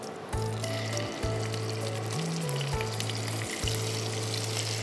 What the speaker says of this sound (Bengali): এই পর্যায়ে আমি চিংড়ি মাছগুলো দিয়ে দিব।